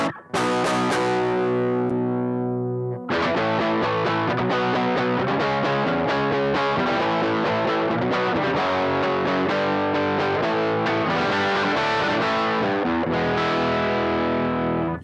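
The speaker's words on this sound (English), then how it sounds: "So you push the emulation button, and now it has an emulation of a 4x12, I guess a Laney 4x12 cabinet there, which all of a sudden makes it sound better." Distorted electric guitar played through a Laney Ironheart IRT Pulse preamp with a Laney 4x12 cabinet emulation engaged, loud sustained chords and riffs that continue without pause and with no talking.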